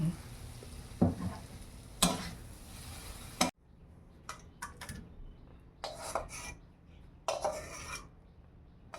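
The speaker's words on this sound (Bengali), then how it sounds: "আমি একটু বড়ি ভেজে নিচ্ছি।" Bori, small Bengali lentil dumplings, frying in hot oil in a village kitchen, with soft sizzling broken by sharp scraping stirs of a metal spatula against the pan at irregular intervals.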